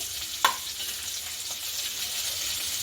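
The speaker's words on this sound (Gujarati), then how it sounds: "તે પણ આપણે બટર અને ઘીમાં જ સાતળવાના છે" Onions sauté in butter and ghee for a cashew curry, a close, even sizzle with a single sharp utensil click near the start and faint stirring, no voices.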